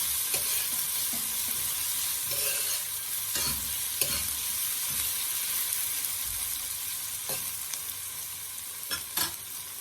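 Ginger stirred in a pan of curry shrimp frying in coconut milk, a steady close sizzle with scraping spoon strokes and occasional clinks, no talk.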